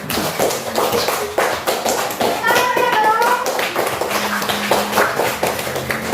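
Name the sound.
classroom applause for group 1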